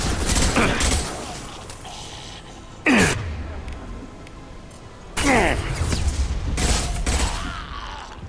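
Bursts of rapid weapon fire from the video game Mass Effect 2 Legendary Edition, loud and close, arriving in three or four separate volleys with quieter stretches of ambient combat noise between them.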